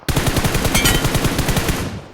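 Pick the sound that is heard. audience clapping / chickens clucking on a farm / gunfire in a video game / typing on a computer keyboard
gunfire in a video game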